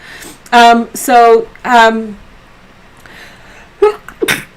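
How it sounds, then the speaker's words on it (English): A person lets out three drawn-out, voiced gasps, then a short, sharp sneeze, close up. "I'm about to sneeze"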